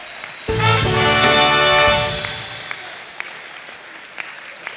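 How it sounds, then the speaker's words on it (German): A studio audience at a Cologne-dialect quiz show bursts into loud applause for a celebrity guest, the clapping swelling suddenly, holding for over a second, then trailing off into scattered claps. "Und dann bitte Applaus für den prominenten Gast"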